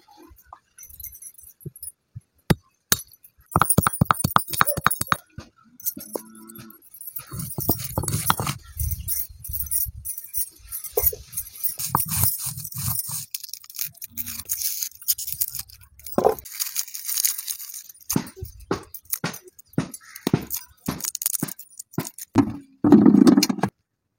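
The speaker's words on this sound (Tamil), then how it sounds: "மஞ்சள் அரைச்சி எடுத்துக்கலாம்." Fresh turmeric ground by hand on a stone in a village kitchen, making close, rhythmic scraping and knocking strokes in uneven bursts with short pauses between them.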